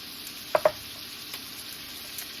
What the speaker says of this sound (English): while that's searing on that side